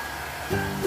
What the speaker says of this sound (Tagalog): Pagkatapos paliguan, binoblower yan.